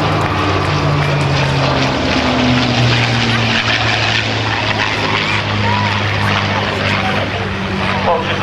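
Propeller aircraft, a P-51 Mustang flying alongside an L-39 jet trainer at a Naval Air Station Oceana airshow in 2010, produce a loud, continuous engine drone throughout, with an announcer talking over it and crowd noise beneath.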